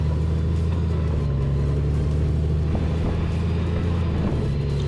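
A 2020 Honda GoldWing Tour DCT motorcycle engine hums with a steady low rumble while riding, constant and close throughout with no clear shift break.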